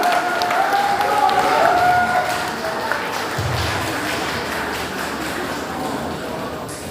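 A crowd at a Democratic Party joint rally in Jeju applauds as candidate Park Seong-won takes the stage, a broad wash of distant clapping and cheering with a voice over it early on, settling into a steady murmuring roar.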